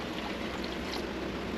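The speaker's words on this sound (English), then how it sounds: "Now I'm going to go ahead and pour some reducer in." Medium paint reducer is poured into mixed paint in a continuous, soft liquid hiss and trickle that stays even throughout.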